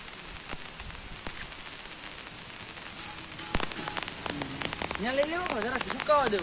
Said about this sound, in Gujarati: જોઈ લ્યો તો ભાઈ, વરસાદ ચાલુ થઈ ગયો